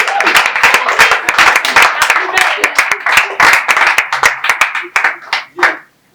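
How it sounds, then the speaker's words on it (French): Loud, close hand clapping from an audience at an anniversary event, sharp individual claps breaking through the mass before thinning out to a few last claps at the end. "applaudissez vous-même."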